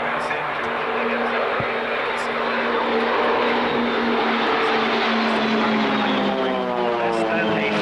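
Aerobatic display team aircraft trailing smoke fly past at the 1993 Coningsby airshow, a loud steady roar that builds, then falls in pitch as the formation passes close by.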